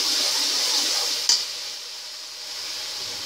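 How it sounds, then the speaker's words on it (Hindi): Cauliflower masala with turmeric being stir-fried in a pan gives a steady, close sizzling hiss throughout, broken once by a brief clink of the utensil. "इसे भून लेते हैं।"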